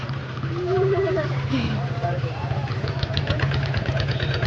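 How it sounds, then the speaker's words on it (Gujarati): A small tractor's engine runs at a steady idle, giving a constant low droning hum throughout while people talk nearby over it. "કેવો છે હાલો ભાઈ આપણો ટ્રેક્ટર?"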